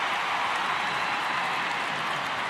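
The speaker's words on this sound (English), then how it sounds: "Rapturous applause for Tegan Micah for the first save of the evening" A stadium crowd at a women's international football friendly between Australia and Korea Republic, applauding a goalkeeper's first save with a dense, continuous wash of clapping and cheering from a big crowd, heard without any commentary.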